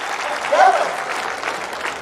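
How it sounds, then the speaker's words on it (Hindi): An audience at a Gorakhpur festival poetry recital applauds, a dense burst of clapping that swells briefly in the middle and carries on steadily, with a voice faintly underneath. "जरा जोरदार तालियां बजाइए।"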